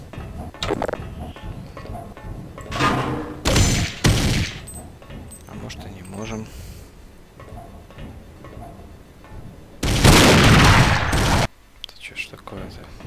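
Bursts of gunfire in Half-Life: Intolerable Threat in short volleys, with a long loud burst near the end, under quiet talking between shots.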